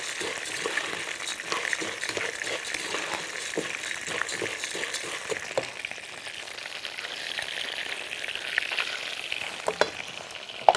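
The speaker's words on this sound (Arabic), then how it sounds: "هنقلب المكرونة عشان متتحرقش." Pasta frying in a pan on a stove while being stirred, with a steady close sizzle and repeated scraping stir strokes, no talking.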